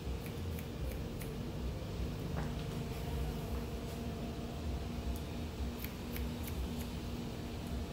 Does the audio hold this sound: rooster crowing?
no